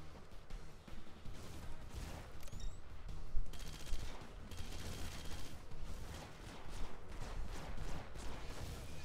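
Sustained gunfire in Red Faction: Guerrilla, aimed at a gunship, rattles on in dense, irregular bursts with scattered impacts and explosions, moderately distant and heard without talk.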